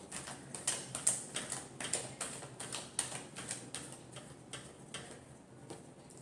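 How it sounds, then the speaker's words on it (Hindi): Tarot cards shuffled by hand in a final shuffle, a steady run of soft, crisp riffling flicks and taps, close and fairly quiet, thinning out toward the end with no talking. "Last shuffle."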